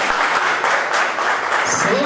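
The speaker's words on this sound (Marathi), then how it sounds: "अशा टाळ्या मला त्या रंगमंचावरती मिळाल्या" A theatre audience claps steadily throughout a brief burst of applause, dense and fairly loud, with a voice briefly heard over it near the end.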